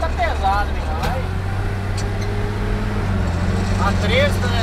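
A heavily loaded truck carrying about 13.5 tonnes of bottled water labours uphill in third gear on a mountain road, its engine a steady low drone with faint rising harmonics, while a person talks over it.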